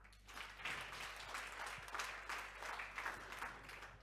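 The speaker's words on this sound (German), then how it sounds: "Ein Applaus für Professor Dr. Bernd Rech." Applause from the audience at a panel discussion on hydrogen and the energy transition, a steady wash of many hands clapping at moderate distance that holds for several seconds without talk.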